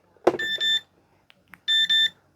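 A large digital clock sounds its alarm during testing, giving two short bursts of electronic beeping, each a pair of quick tones, close and fairly quiet, with a clunk of handling just before.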